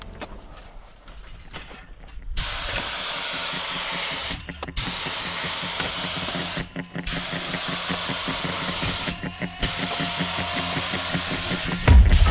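A spray gun lays a base coat on a car's dent repair, long loud hissing bursts separated by brief pauses, each spray running a few seconds, close and without talk.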